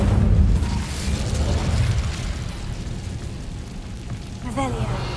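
Incendio fire spell blasting in Hogwarts Legacy on PC: a loud, sustained roaring burst of flame opens strongly and rumbles on with crackling energy before a brief rising tonal chirp near the end.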